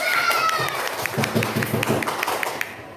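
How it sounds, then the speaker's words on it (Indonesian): Schoolchildren in a classroom clap their hands in a quick, fairly steady rhythm, near and moderately loud, with a teacher's voice calling out over the clapping. "Tepuk tangan buat semuanya. Tepuk tangan lebih kuat."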